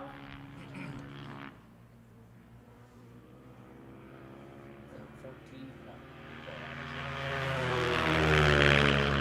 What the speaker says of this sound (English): Approximate speeds about 80-81 miles per hour here today on the ice bikes as they head down the long straightaways on the half mile